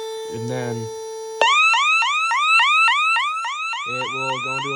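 A loud electronic alarm from a Radionics Omegalarm 3012 alarm system bell sounds in rapid repeating pulses, steady and continuous, with a lower tone sustained beneath it; no talking.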